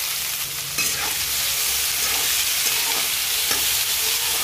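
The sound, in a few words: onions being sautéed and stirred in a pan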